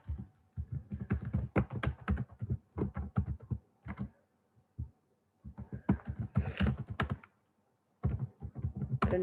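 Someone types code on a computer keyboard in quick bursts of soft, close clicks, separated by short pauses, with no voices.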